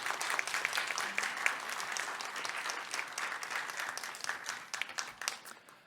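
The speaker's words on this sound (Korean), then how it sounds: "우리 한번 박수로 목사님을 모시겠습니다" Steady applause from a church congregation welcoming a pastor to the front at a service, sustained dense clapping filling the room throughout.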